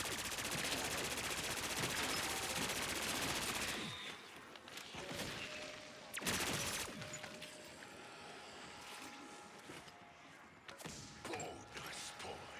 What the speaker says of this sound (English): That AK is still just demolishing the zombies.